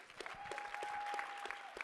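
A quiet round of applause from an audience at a business panel for one of the panelists, scattered claps at a distance beneath a steady tone, fairly faint overall.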